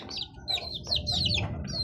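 High, thin chirps repeat in quick overlapping bursts from several one-month-old baby chicks, fairly close, over a low rumbling background.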